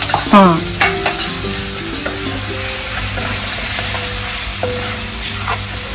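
Masala for a shengole dish sautés in a pan with a loud, close sizzle, while a spoon scrapes and clatters against the metal in uneven strokes throughout.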